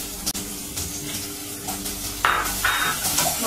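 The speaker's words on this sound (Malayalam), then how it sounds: "ഈ സവാള കട്ട് ചെയ്തതങ്ങ് ഇട്ട് കൊടുക്കാം" Sliced onions hitting hot oil in a pan for a Kerala-style chicken stew, a steady close sizzle that swells louder partway through, with stirring scrapes over it.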